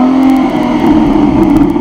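A Ford Mustang convertible engine roars loudly and close, revving up as it accelerates in one continuous rising growl.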